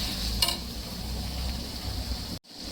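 Tomatoes frying in a pan with salt, turmeric, coriander and curry leaves: a steady, close sizzle with a brief clink of a spoon against the pan, ending in an abrupt cut.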